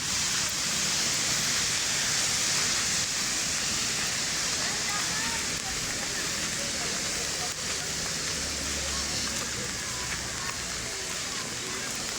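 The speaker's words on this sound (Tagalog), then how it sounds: "Oh, sarap ng ulan." Rain pours down over Manila Bay as a constant broadband wash, loud and unvarying throughout, with a faint low rumble appearing near the end.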